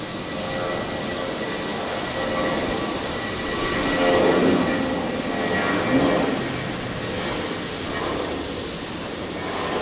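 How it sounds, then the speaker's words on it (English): A Jetstar airliner rolling for takeoff, its jet engines a steady broad roar that swells slightly in the middle and stays loud and continuous throughout. "Jetstar 753 rolling here."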